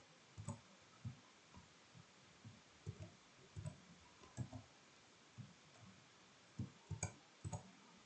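Keys on a computer keyboard are tapped in short irregular bursts, soft and close, with pauses between clusters over several seconds in a quiet room, and no talk.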